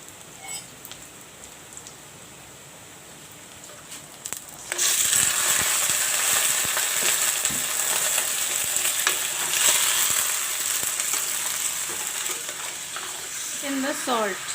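Mutton pieces hit a pan of nearly browned onions, and a quiet simmer jumps to a loud, dense, steady sizzle and spatter that holds for the rest of the clip, with a few brief stirring clinks near the end.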